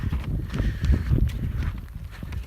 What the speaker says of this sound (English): Got a horse here.